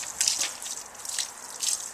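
Water poured from a pail into a red worm vermicomposting bin, soft splashing and trickling in three brief surges, quiet and close, with no talk.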